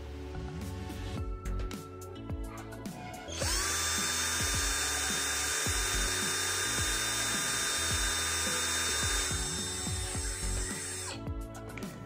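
A Deli DL600012 12V cordless drill spins up in first gear, producing a steady high-pitched motor whine with gear hum that holds for several seconds before stopping, heard alone against background mechanical noise.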